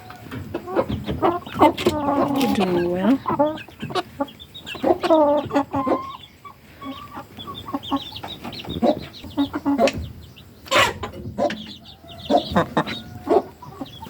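Free-range hens cluck and squawk nearby in irregular bursts, with one drawn-out cackle, while a person says a few words quietly.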